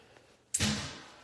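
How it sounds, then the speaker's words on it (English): A door shuts with a single sharp, fairly close thud that rings out and fades over the following second, with no talking. "They closed the door."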